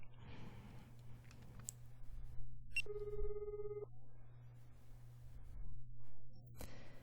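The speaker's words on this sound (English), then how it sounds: "The phone rang and rang, but Shiraishi didn't pick up." A phone rings once in the Collar X Malice game, a short electronic tone heard close and clear against quiet background hum and a few soft clicks.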